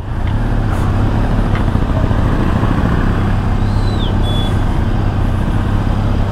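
Dense, steady highway traffic in a jam, a continuous loud rumble of cars, trucks and buses close by, with a brief high horn-like tone partway through.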